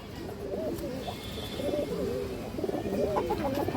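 Soft repeated cooing of pigeons, several overlapping coos in a rhythmic, burbling pattern, close by over a low background hum, with no voices.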